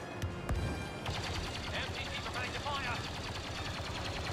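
Rapid automatic blaster fire in the Star Wars Battlefront II video game, a steady stream of quick shots after a couple of sharp single cracks, fairly close, with someone talking faintly underneath.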